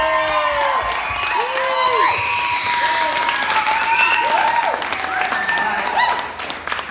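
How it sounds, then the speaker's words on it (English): Wedding guests break into loud applause during a best man speech, a dense burst of clapping with scattered whoops and cheers and some voices in the room, fading slightly at the end. "Let's all give a round of applause for how stunning Aaron looks today."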